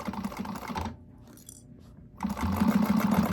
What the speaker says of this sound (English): just sew this up completely